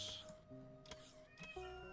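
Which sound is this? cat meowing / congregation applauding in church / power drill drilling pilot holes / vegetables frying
cat meowing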